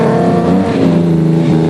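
A V6-powered 3.5-litre Nissan hardbody off-road race truck roars loudly and close at a rally-style off-road race in South Africa, its engine droning under full throttle with a brief shift in pitch.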